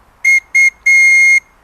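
A homemade water whistle bird call gives three loud, clear whistled tones close by: two short blasts and then one long sustained note, with no voices and a quiet background.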